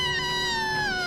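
A woman imitates a cat's meow with a single fierce, drawn-out cry that slides slowly downward in pitch, loud and close, with no other sound around it.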